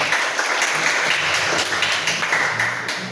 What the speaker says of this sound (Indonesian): Kasih dong tepuk tangan.